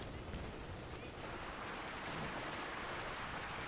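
Rifle and machine-gun fire crackles steadily through a World War II real-time strategy battle at Stalingrad, a dense, continuous rattle of shots with distant artillery rumble and no pauses.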